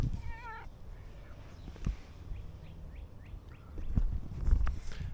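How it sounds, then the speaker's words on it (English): Cats meowing outdoors by a garage, one clear drawn-out meow near the start followed by a run of quick, faint chirping mews, with birds and rustling in the background. "These are my garage helpers, the cats."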